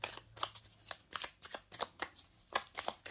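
Oracle cards being shuffled by hand before a cross spread, a quick run of crisp riffling flicks and slaps in a steady uneven rhythm, close up with no talking.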